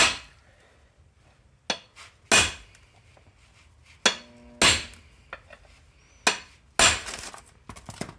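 Press forcing a u-joint out of a Dana 30 front axle on a Jeep Cherokee XJ: sharp, close metallic cracks and knocks at irregular intervals, about seven distinct hits with quiet gaps between them and a faint ringing tail after a few.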